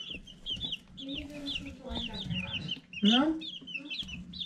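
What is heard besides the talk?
baby Dominique chicken chicks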